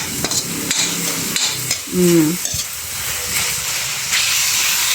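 Tomatoes are mashed and stirred among sautéing vegetables for ginisang gulay, giving close hissing sizzle with scraping spoon strokes and brief knocks, plus a short tonal squeak midway.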